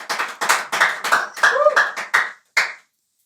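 People clap in a studio audience during a talk about women in corporate spaces, with a string of close, bursty clapping runs that fade out, a pause, then one last short burst.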